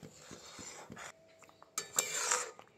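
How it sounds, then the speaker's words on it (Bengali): A Gobindobhog rice and milk mixture is stirred in a pan, with soft scrapes and light metallic clinks of a utensil against the pan, short and quiet, coming in brief bursts separated by pauses. "এই পর্যায়ে কিন্তু খুব ভালো করে নাড়তে হবে, না হলে কিন্তু লেগে যাবে।"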